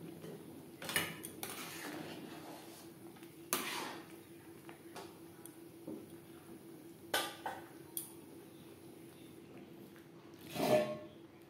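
Ghee and garam masala stirred into moong dal cooked with fish head, a metal spoon knocking and scraping the pot in scattered clinks and taps, fairly quiet and close, no voices.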